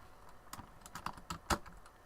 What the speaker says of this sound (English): type on the right keyboard